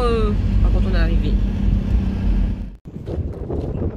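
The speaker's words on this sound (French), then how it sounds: "Ouais, il y a du vent." Wind blows hard outdoors, a heavy low buffeting roar against the microphone with a brief drop in the gusts, while voices are heard over it.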